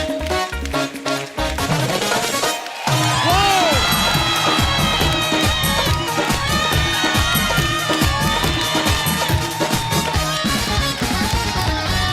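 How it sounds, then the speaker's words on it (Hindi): Studio audience of a TV comedy show cheering and applauding for Archana ji, with whoops and crowd noise mixed over loud, tonal background music for a sustained stretch. "एक बार अर्चना जी के लिए जोरदार तालियां हो जाए"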